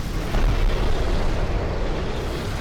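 A modded creature in Ark Survival Evolved fires a beam weapon attack, a loud, rumbling, explosive blast that holds for a couple of seconds before easing slightly.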